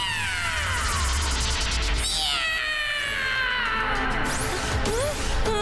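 A cat, in a cartoon cat-magician scene, lets out loud, drawn-out wailing meows with rising and falling pitch that run almost continuously for several seconds.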